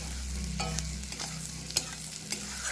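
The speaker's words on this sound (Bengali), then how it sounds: "আলু আর রসুন কুচি দিয়ে একটু নাড়াচাড়া করে নিয়েছি" Prawns, potato and chopped garlic stir-fried together in a pan, with steady sizzling and a few sharp scrapes of the spatula against the metal, alone and close.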